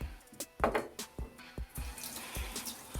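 Tap water runs quietly into a sink while a face is wetted, with soft irregular splashes and hand slaps over a faint trickle.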